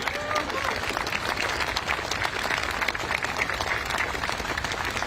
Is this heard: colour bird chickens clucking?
no